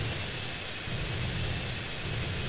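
Airplanes flying in the video game GTA San Andreas, a dense continuous engine roar with a steady high whine, loud and unbroken, with no talk.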